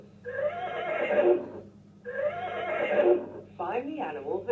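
A brown toy horse lets out two long, loud neighing whinnies in a row, followed by a shorter quavering whinny, each call up close and standing alone.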